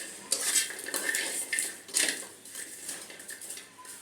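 Jackfruit seeds being dry-fried and stirred in a pan, with close, irregular bursts of rattling and clinking as they are tossed about.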